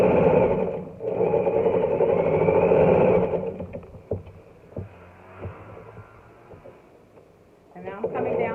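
A sewing machine runs briefly while stitching a seam on apron fabric for a reversible child's apron, a close motor hum in short stretches, followed by quieter taps and fabric handling.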